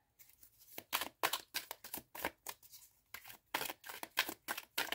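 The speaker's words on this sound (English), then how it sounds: "just gonna shuffle these over" Tarot cards being shuffled by hand close up, a series of quick papery riffles and rustles in uneven bursts with short pauses between, soft and alone without talk.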